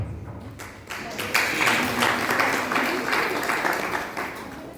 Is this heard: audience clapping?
yes